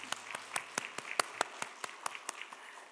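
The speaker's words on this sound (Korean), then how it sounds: "우리를 위하여 행하시는 주님께 영광의 박수 올려드리겠습니다." A church congregation at a Wednesday prayer service claps in a steady, even rhythm, distinct sharp claps at moderate distance, fairly faint in a reverberant hall.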